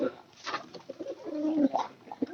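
Pigeons coo close by in soft, low, throaty burbling phrases that swell and fade over a couple of seconds, with no speech.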